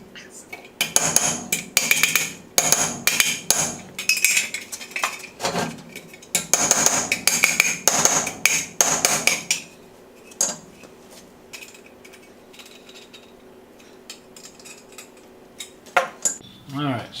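Sheet metal on a Chevelle being hammered to tighten its bends: bursts of sharp, ringing metallic strikes in quick rhythm, close and loud, then a quieter stretch with a few isolated knocks near the end.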